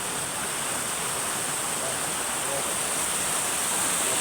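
Steady rushing of river water flowing over rocks beside a rock road, a constant broadband wash heard close and fairly loud with no voices.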